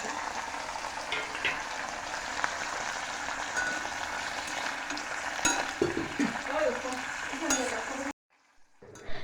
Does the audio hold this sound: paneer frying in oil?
yes